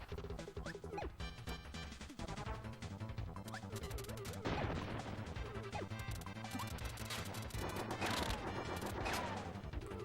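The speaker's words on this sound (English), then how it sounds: "dodging those cannons can be rough. Too many cannonballs." Cannons firing cannonballs in the video game Kirby Super Star, repeated crashing and thudding impacts in quick succession, layered over busy game music.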